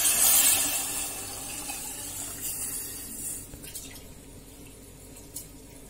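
Water pours from a container into a pan holding coconut milk while making coconut milk pulao, a steady splashing stream that is loudest at first and then tapers off.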